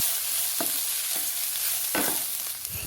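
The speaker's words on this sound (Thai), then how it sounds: "แล้วก็นำลงไปผัดทั้งหมดเลยครับ ให้เข้ากันให้หมดเลย" Washed raw jasmine rice being stir-fried in a pan, with a steady soft sizzle and a few scraping stirs of the spatula, close and alone without voices.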